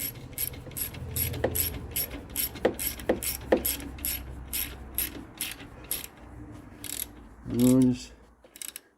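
A hand ratchet clicks in short rhythmic bursts while tightening bolts during an engine install on a 2008 Dodge Nitro in a garage, the close metallic ticks repeating steadily, with a brief creak or squeal near the end.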